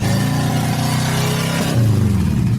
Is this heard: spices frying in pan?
no